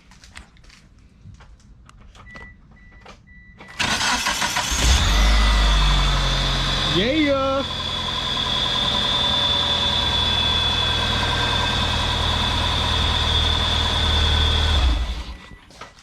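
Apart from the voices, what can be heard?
DSM car starting with replacement starter, idling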